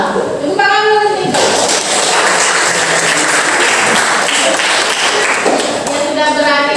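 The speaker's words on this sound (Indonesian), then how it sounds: "Tepuk tangan dulu nih." A classroom of students breaks into several seconds of lively clapping, with a voice speaking just before and again as the applause dies away.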